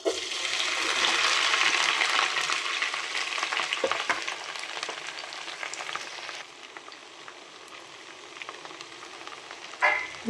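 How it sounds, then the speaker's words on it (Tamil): Okra (lady's finger) frying in hot oil in a home kitchen, a steady broadband sizzle that is loud and continuous at first, easing somewhat after about six seconds, with a few stirring clinks and a brief bump near the end, with no voices. "நம்ம வந்து வெண்டைக்காய் வந்து நல்லா ஃப்ரை பண்ணி எடுத்துக்கலாம்"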